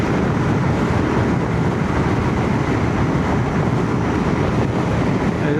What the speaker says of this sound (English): As I say, it's quite windy now.